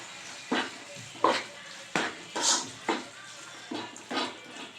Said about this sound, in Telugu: ఇప్పుడు ఉడికే వరకు మసాలా నుంచి ఆయిల్ సపరేట్ అయ్యే వరకు ఉడకబెట్టుకోవాలి